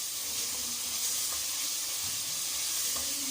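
Chicken, vegetables and spices frying for chicken spaghetti make a steady, even sizzle with a soft hiss, constant and close with no breaks.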